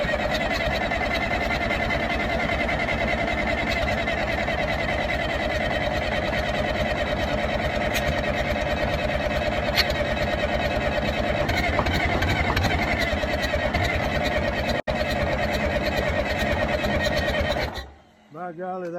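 An old International 350 diesel tractor engine, 67 years old and sitting unused for 25 years, cranks and runs with a loud, continuous rhythmic clatter close by, then cuts off abruptly near the end.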